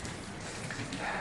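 Steady rain falls in the hills around Kasol, a dense, even hiss of drops on surfaces that fills the whole moment without any voices.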